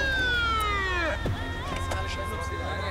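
A police siren wails with a descending sweep, close by, with traffic rumble underneath and voices briefly mixed in.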